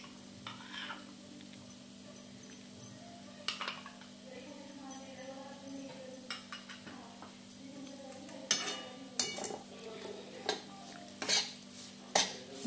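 Besan roasting in ghee in a pan for laddu is stirred with a utensil, giving soft scrapes and light clinks over a faint steady background hum, quiet and intermittent.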